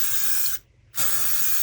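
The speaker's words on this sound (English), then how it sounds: "you need a stronghold hairspray, and you just spray it" Two close bursts of strong-hold hairspray hissing onto resin, separated by a brief pause, sharp and airy with no talking.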